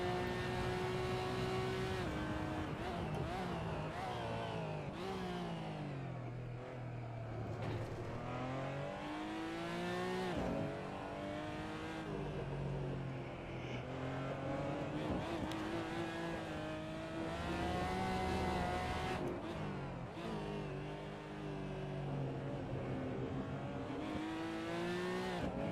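Race car engine in Assetto Corsa Competizione, a sustained loud roar that rises and falls through gear changes and revs for the whole stretch, with occasional tire squeal and no talk.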